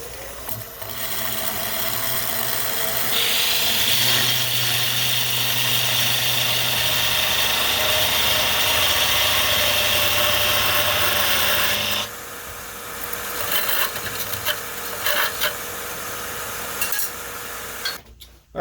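A wood lathe turns a baseball bat as a cutting tool blends down freshly cut sections, giving a loud, steady motor whine and a rough scraping hiss that run for about twelve seconds, then drop to intermittent cutting noise.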